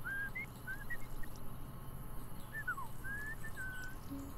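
A Sims 4 character whistles a short, bright tune in a few quick phrases, with a pause in the middle, over faint background game sounds and trickling water.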